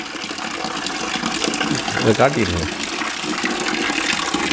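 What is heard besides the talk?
tap water running into a bucket from an instant water heater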